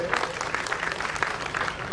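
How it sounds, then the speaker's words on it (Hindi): A crowd at a Teachers Day ceremony in Kotdwar, Pauri Garhwal, claps for Surdeep during a certificate presentation, with continuous applause and some voices mixed in. "जोरदार तालियां सुरदीप भाई के लिए।"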